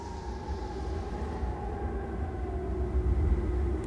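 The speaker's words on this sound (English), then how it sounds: "It's the sound of the ice cracking." Arctic sea ice cracks with long, drawn-out screeches, wavering tones that slowly slide in pitch over a deep, continuous rumble, steady and sustained with no voices.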